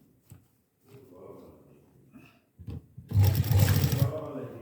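Sewing machine stitching a small doll dress for Ladoo Gopal, with someone talking softly at first before a loud, fast burst of mechanical stitching runs close up for over a second.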